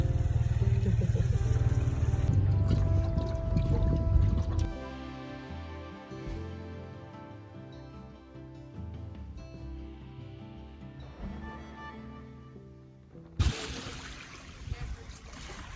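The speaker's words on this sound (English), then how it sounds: "Little birthday boat cruise." A small boat cruising on water during a birthday outing, engine and water wash loud at first, then easing into a quieter mix of motor and splashing, with a few sharper knocks and a renewed rush near the end.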